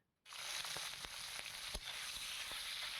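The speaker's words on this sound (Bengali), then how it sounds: "কপিটা সাঁতলিয়ে নিচ্ছি।" Cauliflower sizzling in hot oil in a pan in a village kitchen, a steady loud crackle starting abruptly after a brief silence, with scattered pops and stirring knocks throughout and no talk.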